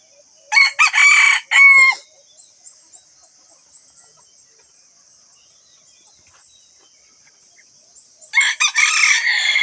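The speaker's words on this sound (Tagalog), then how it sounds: "ito yung mga manok" A rooster crows loudly nearby at a chicken coop, followed by scattered soft clucks, then another crow begins; insects hum faintly in the background throughout.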